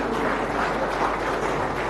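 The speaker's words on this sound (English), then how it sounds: "Please give them a round of applause to the students." An audience at a deep tech innovation conclave in Visakhapatnam applauds student helpers with steady, dense clapping that fills the whole moment, with no talk over it.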